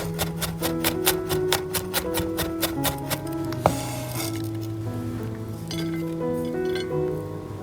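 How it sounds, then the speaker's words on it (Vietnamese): A knife chops a whole head of garlic on a board in quick, even taps, then one sharp crushing crack, followed by looser chopping, while soft music plays underneath. "một củ tỏi, đập dập và băm nhỏ ra nhé"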